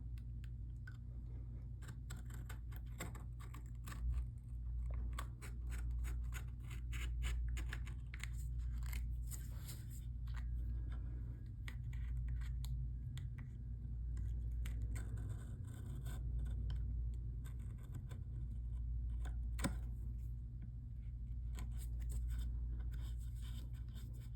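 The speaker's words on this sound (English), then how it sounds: "Cut out the circle." Scissors cut out a circle, probably from paper or thin sheet material, during preparation of wood for resin art, giving a long run of close, quick, dry snipping and crunching strokes over a low steady hum.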